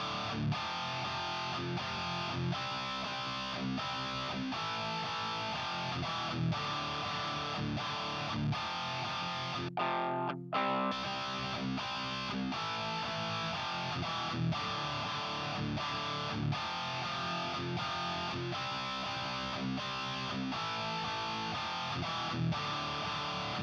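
Electric guitar played through a metal preset with heavy distortion and gain, dense chugging riffs with a brief cut to near silence midway before the crunchy playing resumes, fairly quiet overall with no voices.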